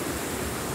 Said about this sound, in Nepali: यत्रो ठुलो च्यानलमा पानी आइरहेछ